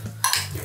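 A spoon stirs garlic paste filling for garlic bread in a bowl, giving one short, close scraping swish over a low background hum.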